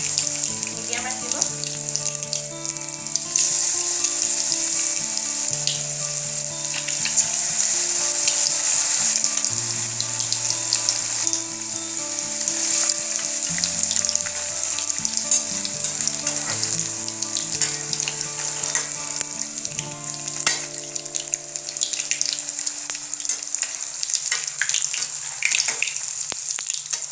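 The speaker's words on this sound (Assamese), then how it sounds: "এতিয়া এইখিনি কেৰাহীত তেল গৰম কৰি লৈছোঁ ৰিফাইণ্ড অইল এতিয়া ইয়াতে দি দিম এটা এটাকৈ" Egg and onion pakora pieces frying in hot refined oil in a karahi over medium heat, a steady loud sizzle and crackle running throughout with occasional bursts as pieces are added.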